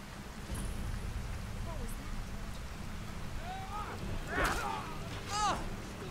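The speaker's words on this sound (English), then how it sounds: "I apologize if the rain was drowning out my dialogue." Steady rain hisses through a Skyrim game running a Legend of Zelda mod, a dense wash under a few short chirping game tones and calls, with no speech over it.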